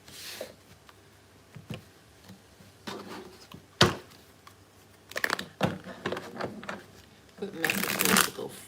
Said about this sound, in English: Clean shuffle, please.